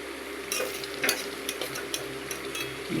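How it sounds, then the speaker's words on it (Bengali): Boiled potatoes fry in a pan and are turned over, soft sizzling under repeated scraping and stirring knocks of a utensil, close and fairly quiet. "এভাবে দেখুন উল্টে পাল্টে আমি ভেজে নিচ্ছি"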